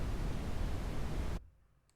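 A low, rumbling wash of synthesizer brown noise from SynthMaster 3, deeper and softer than hiss, plays steadily for over a second before cutting off abruptly.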